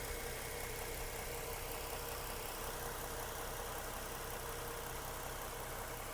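A 2015 Ford Mustang's 3.7-liter 300-horsepower V6 with a six-speed manual idles steadily, a constant close mid-pitched engine drone with a faint knocking texture and no talking.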